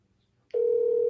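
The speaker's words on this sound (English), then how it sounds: "I'm going to try to connect with her on the phone." A telephone call placed over speakerphone: after brief quiet, a steady electronic ringing tone begins abruptly and holds loud and even to the end.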